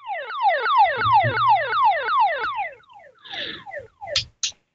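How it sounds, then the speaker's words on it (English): An activated 121.5 MHz emergency rescue beacon signal: a warbling electronic tone sweeps downward again and again in quick repeated falls, then breaks into a few shorter chirps and bursts before cutting off. "what an activated beacon would sound like on a demonstration channel"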